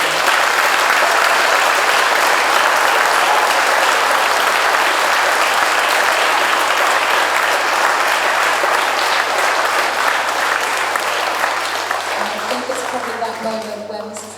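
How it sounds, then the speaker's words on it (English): At a school poetry reading final, a packed audience gives the children a loud, dense round of applause that stays steady throughout before tapering slightly at the end, with a few voices emerging as it fades. "Can we give absolutely all of the children a massive round of applause?"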